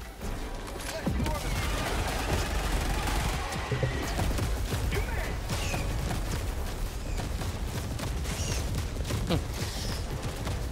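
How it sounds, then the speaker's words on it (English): A Helldivers 2 weapon firing explosive, napalm and mini nuke rounds, heard as a dense run of sharp shots and booming impacts layered over constant battle noise, loud and close throughout. "The ammo is fired in explosive, napalm, mini nuke. So in that order it will fire."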